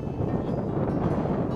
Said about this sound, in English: It's windy, not too windy